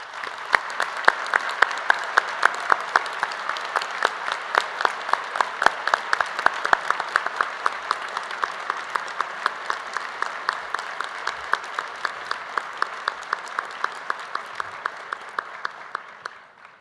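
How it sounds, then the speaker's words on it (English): Sustained applause from a conference audience honoring volunteer staff at a Model UN opening ceremony in New York, dense steady clapping lasting the whole stretch before fading out at the end. "I'd ask you to give them another round of applause"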